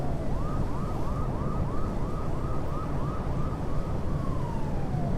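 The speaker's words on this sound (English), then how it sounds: "I hear sirens. Why do I hear sirens?" A video game emergency vehicle siren wails, sweeping up and down in rapid repeated cycles over a steady low rumble of traffic in American Truck Simulator, then trails off into a long falling tone.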